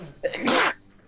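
A single short, sharp sneeze close to the microphone during a tabletop Dungeons & Dragons session, a quick intake then a loud burst lasting well under a second.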